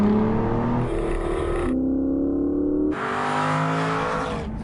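An Aston Martin Virage grand tourer's engine revs in strong, rising and falling pulls, near and loud. It cuts to a lower, steadier note midway, then surges again, with no voices.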